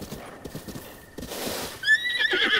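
Horse in the video game Zelda Breath of the Wild: a run of hoof clip-clops followed by a bright, loud neigh that rises and trails off close by.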